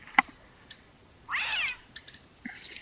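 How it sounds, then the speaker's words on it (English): A cat meows from the King's Quest III Redux video game, one drawn-out, wavering meow in the middle, with a few soft clicks before and after in an otherwise quiet background. "you grab the nasty cat by the scruff of its neck, avoiding its needle-sharp claws"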